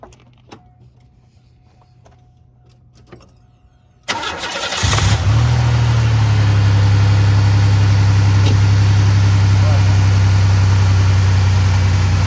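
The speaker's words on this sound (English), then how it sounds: "So you can go ahead and start it, and then we'll listen to it for a minute." After a few seconds of quiet, a car engine cranks and catches, then settles into a loud, steady idle.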